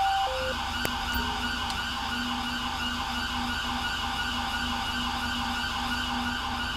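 Ambulance siren in the GTA 5 LSPDFR police mod, a loud, continuous electronic wail that holds steady and close throughout, with no talking.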